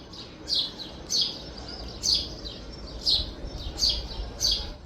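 House sparrows chirp near their nest in a series of short, bright, fairly faint calls, about seven spaced evenly through the clip over a soft hiss of overcast outdoor background.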